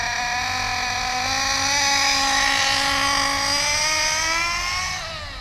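An engine running during a break-in, its steady buzzing drone rising gradually in pitch as the throttle is slowly opened, loud and close with no talking.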